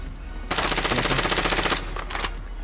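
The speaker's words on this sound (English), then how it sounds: "They're shooting at someone else." Rapid automatic gunfire from the shooter game Call of Duty Warzone sounds as a loud, dense burst lasting over a second, followed by a couple of quieter shorter bursts.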